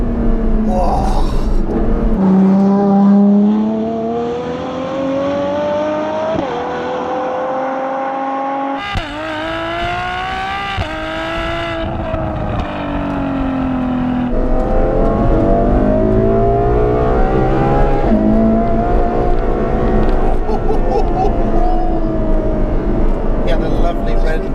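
Ferrari F12 TDF V12 engine pulling hard at full throttle, a loud howl climbing in pitch through several upshifts, with brief dips between gears and voices speaking over the roar.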